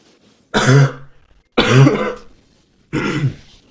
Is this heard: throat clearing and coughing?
yes